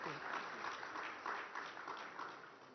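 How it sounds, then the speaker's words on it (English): A conclave audience gives a warm round of applause, with steady clapping that is moderately faint and swells slightly in places, and a voice briefly heard at the start. "Let's give them a very warm round of applause for that as well."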